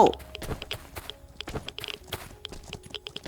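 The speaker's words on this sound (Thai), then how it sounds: "เฮ้ย เสียงเท้า" Footsteps in the survival game Last Island of Survival, a quick run of soft, close steps with uneven rhythm over a few seconds, mixed with other small in-game noises.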